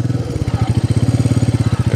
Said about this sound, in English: riding the bike round slowly